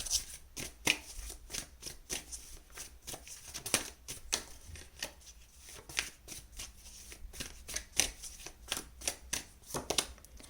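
Tarot cards riffle and slap together in rapid, repeated shuffling bursts throughout, crisp and close with no voices.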